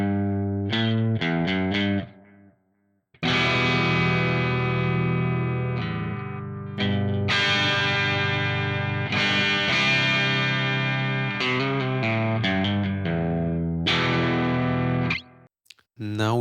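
Crunchy overdriven electric guitar through a modelled Soldano SLO 100 crunch amp on an Ampero 2 Stomp with delay added, playing loud sustained chords and riffs with echo trails and a few brief pauses.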